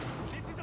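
Gunfire in the video game The Division, a dense, loud burst of shots filling the whole brief moment with no pause.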